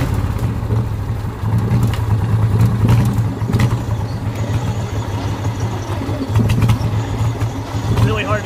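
A hot rod farm tractor's engine runs with a loud, steady, low rumble as it drives slowly over puddles. People talk over the engine.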